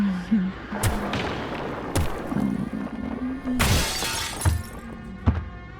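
Glass shatters in a dark sci-fi horror scene inside a thin-walled containment chamber, with several sharp bright crashes and a large burst of breaking near the middle over a low droning hum, no talk.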